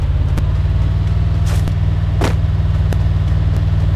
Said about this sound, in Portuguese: Tem um carro vindo aí, hein?